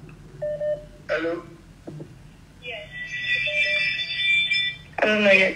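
An electronic phone ring from an incoming call, a sustained bright warbling tone lasting a couple of seconds, heard amid short bursts of talk and a few faint beeps.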